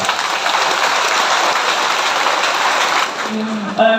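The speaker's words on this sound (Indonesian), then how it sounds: "kita berikan semangat mereka dengan tepuk tangan." Sustained applause from a Christmas celebration crowd honoring the clergy, dense and steady for about three seconds before thinning out as a voice begins speaking.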